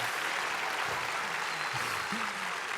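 A church congregation's sustained applause fills the room, steady and moderately loud, with faint voices underneath.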